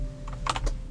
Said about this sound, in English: Don't step on the keyboard, please.